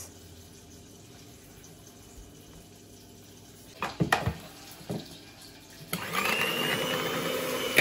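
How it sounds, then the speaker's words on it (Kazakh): An electric hand mixer beating eggs and sugar: a quiet stretch and a few clunks, then a loud, continuous high whir starts near the end. "Жұмыртқа мен шекерді миксермен миксерлейміз."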